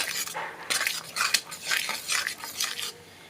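Eggs being stirred into a Bengali egg tarka in a pan, a spoon scraping and clinking against the metal in a steady run of close strokes, with a faint sizzle underneath.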